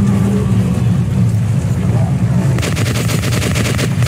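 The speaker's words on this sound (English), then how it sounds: "I did not mean to shoot him." Gunfire in the shooter game Metro Last Light, a rapid burst of loud shots cutting in partway through over a steady low rumble of game background noise.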